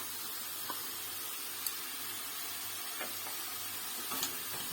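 Grated carrots sauté in butter with sugar and cinnamon, giving a faint, even sizzling hiss with a few light taps from a stirring utensil.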